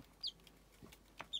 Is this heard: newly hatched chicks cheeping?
yes